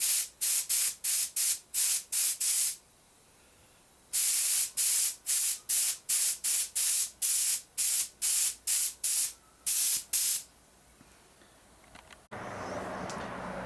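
Extra matte clear lacquer sprayed onto a leather cushion in quick repeated bursts, a long run of short hissing pulses with pauses between, ending in a steadier rushing hiss.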